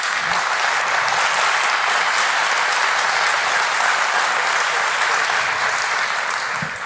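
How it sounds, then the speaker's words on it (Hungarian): Loud, sustained applause from a large live audience at a festival talk stage, a dense, steady roar of many hands clapping for the full stretch with no speech over it. "Taps, most!"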